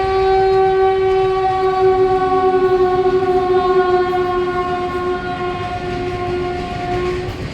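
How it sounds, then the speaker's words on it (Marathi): A train passes the closed level-crossing gate at Kundewadi station, sounding a long, loud, steady horn blast over the rumble of wheels on rails, near and continuous, with no one talking. "पुढं गेट बंद आहे कारण की ट्रेन येणार आहे"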